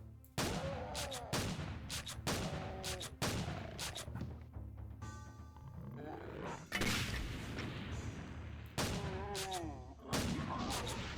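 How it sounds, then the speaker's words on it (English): A retro-styled shotgun borrowed from Duke Nukem 3D fires repeatedly in a Doom mod, roughly a dozen punchy blasts in an uneven rhythm, some followed by mechanical pump clacks and brief game voice sounds. "the shotgun is actually the one from Duke Nukem 3D"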